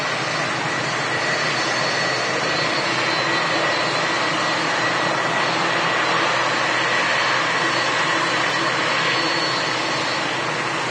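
Jet aircraft on the runway at Manchester Airport, a steady broadband engine roar holding loud and continuous throughout without pause.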